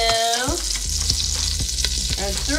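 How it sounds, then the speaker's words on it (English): Flour being whisked into a hot pan for mac and cheese, a close steady sizzle with quick whisk strokes, alongside faint tonal squeals from the pan. "And now we're gonna whisk it."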